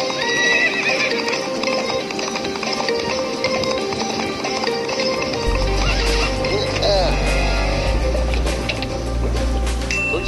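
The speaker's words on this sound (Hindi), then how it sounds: "देखिए मैडम, घोड़े के फुटस्टेप।" A horse clip-clops along with steady hooves, and a clear neigh breaks through midway, while a deep, heavy rumble swells under the second half.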